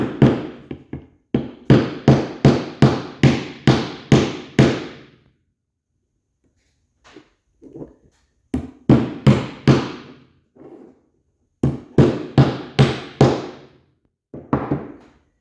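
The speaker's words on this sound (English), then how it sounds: "Grab a hammer," Hammer blows tap nuts into a 3D printed Kubota ROPS lighting mount, delivered in rapid bursts of sharp, close knocks, about eight in a row, then gaps with softer scattered taps and further quick runs.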